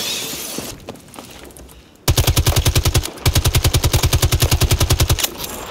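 Automatic weapon fire in the Battlefield 2042 video game, two long, loud bursts of rapid evenly spaced shots, close up, after softer game ambience and scattered distant noise.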